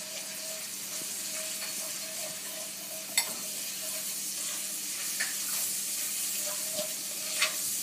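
Garlic and onion sizzle in a hot pan while shrimp pasta is being made, a constant close frying hiss broken by a few sharp clicks of stirring.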